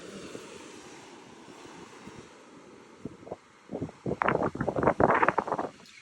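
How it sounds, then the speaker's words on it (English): Gusty wind on the California coast by the ocean, rumbling steadily into the microphone and then buffeting in stronger, closer bursts over the last few seconds. "it is a little windy"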